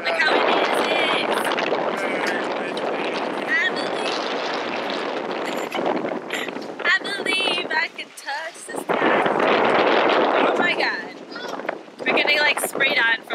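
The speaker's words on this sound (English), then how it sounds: "And it is so windy. Look how windy it is." Strong wind in Chicago buffets the microphone with a constant roaring rush, while people talk over it nearby.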